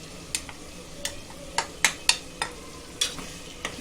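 Spices for zafrani biryani being stirred and roasted in a pan with softened tomato and ginger: about nine sharp spoon scrapes at an uneven pace over a low, steady sizzle, close by, with no voices.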